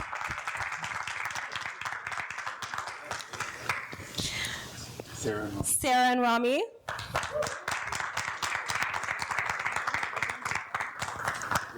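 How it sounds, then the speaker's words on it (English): An audience claps and cheers for couples being introduced at a Q&A couples panel, a sustained crowd applause running through most of the clip while a host speaks over it and a short vocal burst stands out in the middle. "Round of applause."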